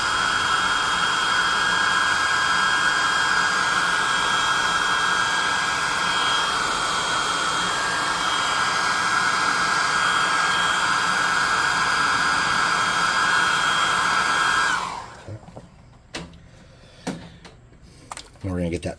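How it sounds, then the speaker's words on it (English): A hot air gun on its low setting drying paint on a tabletop miniature: a steady loud blowing whine that holds for about fifteen seconds, then cuts off, leaving quiet handling noises. "I'm going to get the +2 hot air gun burning out again and put it on the low setting"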